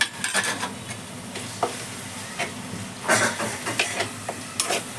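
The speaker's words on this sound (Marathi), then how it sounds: "आता आपला टॅमॅटो टाकायचा एक टॅमॅटो टाकल्या मोठा टॅमॅटो घेतलाय" A large tomato fries in a pan for a spicy Konkani shimplya masala, soft sizzling beneath repeated scraping and stirring of a spoon against the pan, with no talk.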